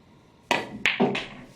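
Pool cue striking the cue ball on a billiards table during a drill shot with low left English, followed by balls clacking together; a few sharp knocks close by, heard alone.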